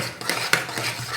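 A spoon stirs a glass of sugar in a vessel, giving a few short scraping clinks against the sides over a steady soft background, with no voices.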